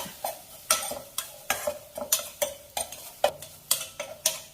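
Crushed pepper and garlic fry in coconut oil with a soft sizzle, while a utensil strikes and scrapes the pan about a dozen times in a quick, regular rhythm.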